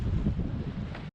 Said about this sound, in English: We got a little wind too to make things interesting.